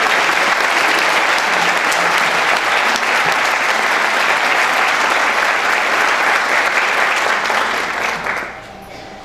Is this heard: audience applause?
yes